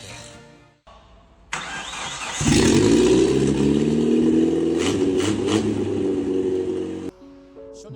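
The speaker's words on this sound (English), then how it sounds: "The roar of the engine still echoes in my ears." A 1980s Mitsubishi L300 van engine cranks, catches and runs loud and steady for several seconds, with throttle blips rising and falling, before cutting off abruptly.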